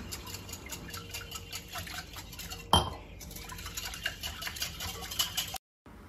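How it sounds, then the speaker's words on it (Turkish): A whisk stirs oil and water together in a bowl for a dough, giving quick rhythmic metal-on-bowl ticking and light sloshing, close and fairly quiet with no talking. "bir su bardağı suyu azar azar ekleyelim ve bir çırpıcı yardımıyla karıştıralım"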